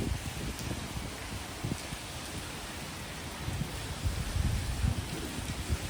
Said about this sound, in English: Heavy rain again.